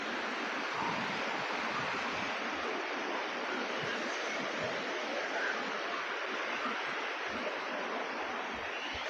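A waterfall at Lambasingi pours out a steady, dense rushing roar that holds unbroken at an even level for the whole stretch, with no voices over it.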